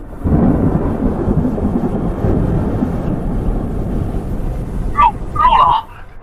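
Thunder in an animated apocalyptic battle scene, a long loud rolling rumble that fills the clip before a voice briefly speaks over its tail.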